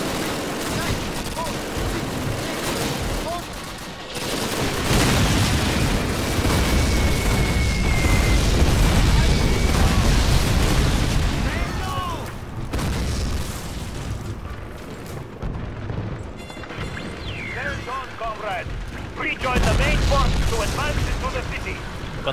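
Artillery barrage explosions in the Call of Duty: United Offensive video game, a dense run of loud booms and rumbling blasts with gunfire crackle, swelling and fading over about twenty seconds, with brief game voices in between.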